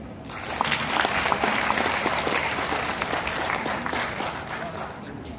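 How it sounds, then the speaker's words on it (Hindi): An audience bursts into sustained applause after a poetry recitation at a Hindi poets' gathering held for Teachers' Day, a dense wash of clapping that rises quickly and holds steady for several seconds. "सबसे पहले एक बार जोरदार तालियां"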